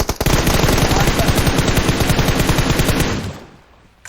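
Loud, sustained automatic gunfire in PUBG Mobile during a fight around a house near the Bootcamp area, a rapid unbroken burst of shots for about three seconds before cutting off abruptly into quiet.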